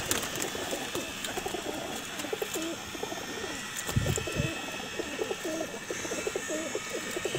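Teddy pigeons coo repeatedly in soft, throaty phrases over a steady background hum, with a brief low thump midway; several birds nearby, no speech.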